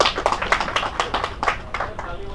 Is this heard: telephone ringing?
no